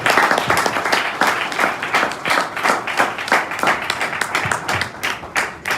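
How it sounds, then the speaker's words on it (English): Applause from a seated audience at a youth empowerment program event, steady clapping from many hands filling the room, loud and sustained for several seconds with no talk over it. "A round of applause once again for him as he goes to take a seat"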